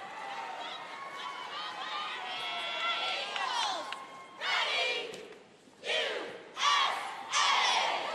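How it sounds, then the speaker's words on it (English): An all-girl premier cheerleading team at a world championship final shouts a cheer in rhythmic bursts, voices ringing loudly in a large arena with the crowd roaring underneath. "They'll start with a cheer."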